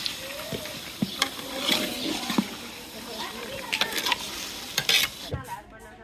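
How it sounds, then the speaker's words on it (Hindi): Meat and onions frying with spices in a cooking pot, a continuous close sizzle with scraping spoon stirs and clinks throughout, while people talk in the background. "गोश्त इस टाइम पतीले विच पई गया, तो हुन बस मसाले ते लून ऐड करसन"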